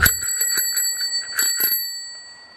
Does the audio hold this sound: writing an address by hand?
no